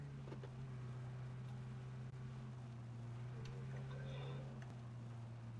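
A boat in the battle royale game PUBG cruises across water with a steady, droning engine hum that continues throughout under faint background noise.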